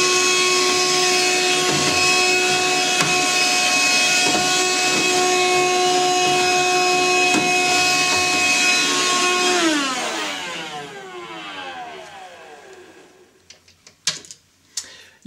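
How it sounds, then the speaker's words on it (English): A steady whining vacuum cleaner motor hum with tonal drone, vacuuming inside a boiler, runs for about ten seconds, then winds down, followed by a few scattered knocks and clicks. "just give it a sort of slight vacuum up"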